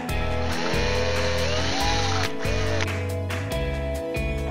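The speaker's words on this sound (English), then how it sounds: "For drilling small holes, I am using 2 pieces of wood because bottom of the bottle is very soft." A small drill bores holes into the soft bottom of a plastic bottle braced on two pieces of wood, a steady loud motor whine broken by short pauses and pitch shifts as the bit bites.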